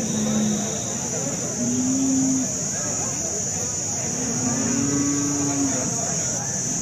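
A dairy cow at the Alephata cattle market moos in several drawn-out, low calls, loud and close, while people chat nearby amid the busy market hum.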